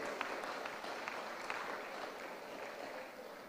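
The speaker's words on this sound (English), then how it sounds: "Clap your hand for these" Audience applause at a nursing school graduation ceremony, a steady wash of many hands clapping that holds at an even level throughout, with no clear talk over it.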